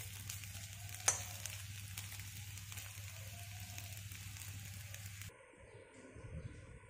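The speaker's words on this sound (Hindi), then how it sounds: "बस 2-3 मिनट के लिए इसको ऐसे ही इसमें थोड़ा सा भून लेंगे" Rice flour fara dumplings fry in a pan with a steady, close sizzle and soft crackle, plus a brief clink near the start, before the sizzle suddenly drops away.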